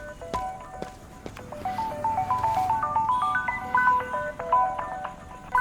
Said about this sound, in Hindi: आ गया उसका फोन।